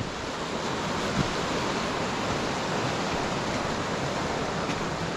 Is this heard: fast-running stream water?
yes